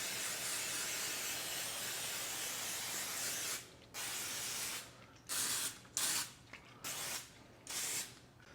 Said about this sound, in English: So that's where we're going to use this cooking spray to put it on the outside.